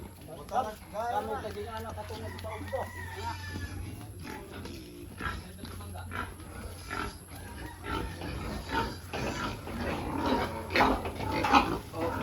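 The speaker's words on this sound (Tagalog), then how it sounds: "Yan, direkta kinakain ng baboy." Pigs grunting and oinking while eating sweet potato leaves on a Philippine farm, repeated close snorts and chewing noises running throughout, with someone talking over them.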